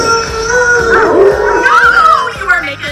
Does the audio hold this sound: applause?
no